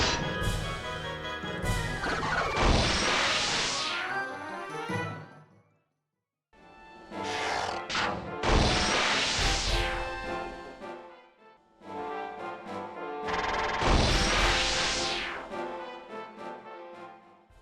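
Attack and kill effects from the strategy RPG Vandal Hearts: three separate bursts of crashing impacts and a dense splattering wash, each fading before the next strike.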